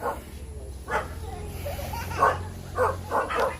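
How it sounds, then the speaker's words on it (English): Dogs bark several times at a distance in a rural Philippine town, short separated yaps and woofs over a soft outdoor background, with a person talking nearby. "But there's dogs there."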